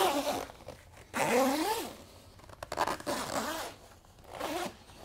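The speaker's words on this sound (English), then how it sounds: "Easily, easily zips on." A fabric zipper rasps along in several quick pulls as a bassinet is zipped onto an UPPAbaby Remi travel crib, close up and with no voices.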